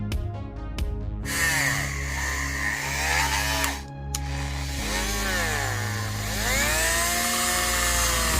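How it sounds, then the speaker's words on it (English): A Dremel rotary tool grinds into the head of a Star Wars Black Series Luke Skywalker action figure, a loud continuous high-pitched whine whose pitch dips and rises as the bit bears into the plastic, with a brief pause midway. "So just using the Dremel here, I'm just actually putting more depth into the head"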